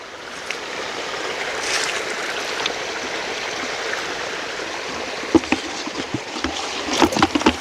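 Irrigation water rushes strongly across a farm plot, a steady broadband gush of flowing water running continuously with a few small splashes near the end.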